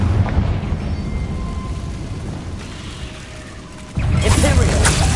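A Confringo explosive spell bursts in Hogwarts Legacy with a loud, broad blast near the end, rising abruptly out of a steady rumbling game background.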